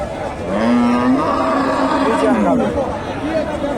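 A cow at a busy cattle market lets out one long, loud, nearby moo lasting about two seconds, with the murmur of people talking all around.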